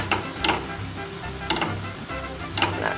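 Corn frying and being stirred in a pan while making fajitas, a steady close sizzle with a few louder scraping bursts from the stirring, no voices.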